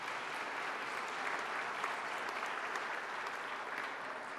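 Sustained audience applause fills a hall at an awards ceremony, steady and dense throughout without breaks.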